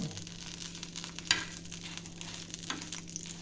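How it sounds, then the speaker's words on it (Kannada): Twelve to fifteen Byadgi chillies frying in coconut oil, a soft continuous sizzle with a few light stirring clicks, close and steady with no voices. "ಹನ್ನೆರಡರಿಂದ ಹದಿನೈದು ಬ್ಯಾಡಗಿ ಮೆಣಸನ್ನು ಹಾಕಿ ಚೆನ್ನಾಗಿ ಫ್ರೈ ಮಾಡಬೇಕು"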